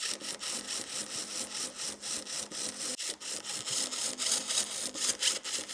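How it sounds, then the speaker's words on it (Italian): A drill runs steadily in reverse, turning a screw extractor into a damaged screw in a workpiece, giving a continuous loud grinding whir with rhythmic pulses throughout. "Giro il pezzo, metto l'estrattore, sempre rotazione inversa."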